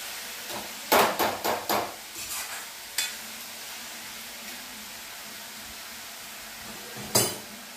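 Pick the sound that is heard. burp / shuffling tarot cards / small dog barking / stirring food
stirring food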